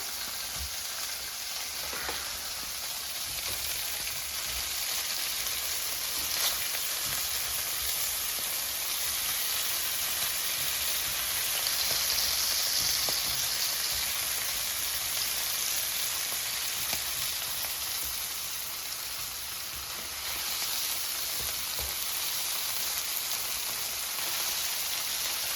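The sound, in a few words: smelt fish frying in a pan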